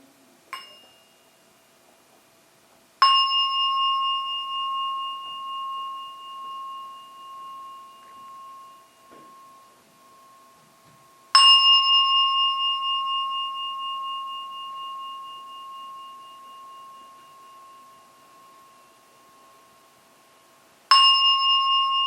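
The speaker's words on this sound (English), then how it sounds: "I will now invite the bell to signal the end of the meditation, and at the third ringing of the bell," A meditation bell rings three times to close a meditation session, each clear struck tone blooming and slowly fading over several seconds, the strikes spaced widely apart in an otherwise quiet room.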